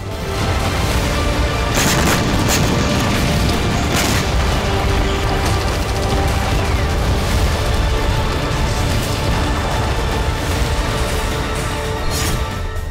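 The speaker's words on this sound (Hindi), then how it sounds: "वायुसेना ने यहां 500 किलो का बम गिराया" A 500 kg air-force bomb explodes at a forest site in Ukraine's Donbass, a suspected Ukrainian base or weapons depot: a loud, sustained roaring rumble broken by several sharp blasts.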